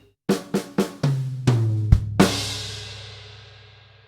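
A drum kit plays one bar alone: a run of sharp hits moving through the high and mid toms and kick, ending in a loud crash with snare that rings out and fades slowly.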